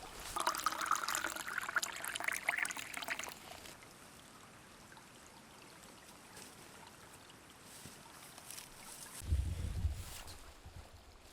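Creek water trickling and flowing in an old growth forest, steady and close, with a brighter splashing burst early on and a low rumble near the end.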